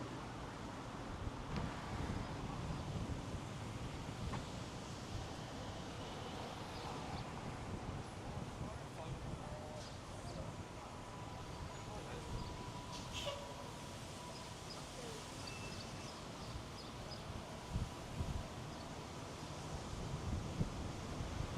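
Steady wind buffets the microphone at Miami Beach, a continuous rough low roar throughout, with faint background noise and a few brief knocks underneath.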